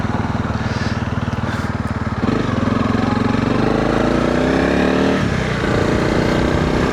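Honda CRF 300 Rally motorcycle engine running close up, a steady throbbing single-cylinder chug that picks up into a revving, rising drone as the bike pulls away, loud and without talk.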